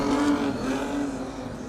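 Modified sedans race at Cairns Speedway on a dirt oval, a loud engine roaring near and steady for a moment with a pitch that sags slightly as the car passes.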